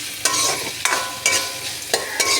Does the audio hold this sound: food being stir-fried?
yes